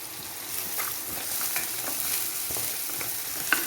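Four slit chilies are stirred in a frying pan with oil and salt for a Kerala fish curry, giving a soft steady sizzle with scraping stir sounds and a small clink near the end, no talking.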